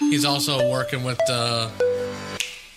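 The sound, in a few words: tablet notification bell dinging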